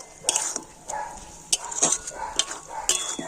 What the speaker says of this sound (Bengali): এখন আমি এইভাবে কন্টিনিউ নাড়াচাড়া করে একটা আঠালো পুক তৈরি করে নেব